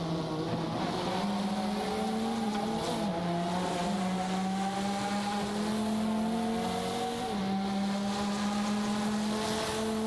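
Lamborghini Huracan and McLaren MP4-12C race cars in a racing video game, their engines holding a steady, sustained drone with pitch rising and dropping through gear shifts, loud and continuous with no talk.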